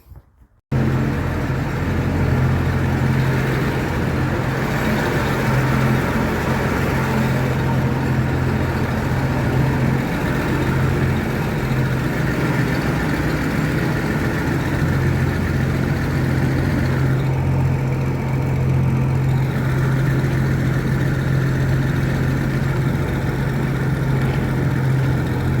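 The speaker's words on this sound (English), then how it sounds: "The engine certainly runs sweet, doesn't it?" A Model C combine harvester engine idles steadily, loud and close, with an even low rumble and hum running continuously after it starts up, with no talking.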